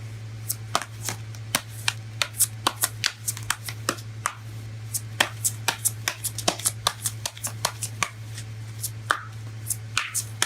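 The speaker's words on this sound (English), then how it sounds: "let's go ahead and pull a romance angel card here" Romance angel oracle cards being handled and shuffled, with many sharp, closely spaced flicks and riffles running steadily throughout over a constant low hum, close and fairly loud.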